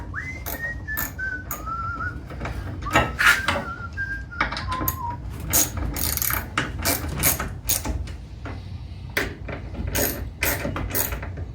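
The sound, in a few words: countersinking a hole while building a knife grinder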